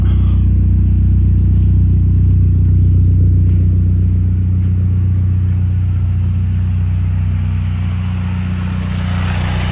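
A car engine just started after repair work, idling loud and close with a steady low rumble that eases slightly toward the end.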